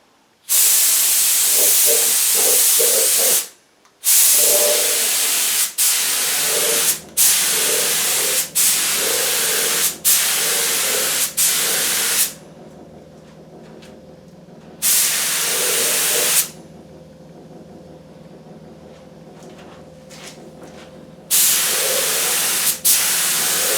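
Coats of brown amber finish are sprayed onto a Thinline Telecaster guitar body in a series of loud, close hissing bursts, short and long, broken by pauses that leave a low steady hum.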